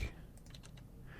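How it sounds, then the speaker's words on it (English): Keys tapped on a computer keyboard, a handful of quick light clicks in a short burst, close and quiet with no voice over them. "I'm just hitting the B on my keyboard to break these"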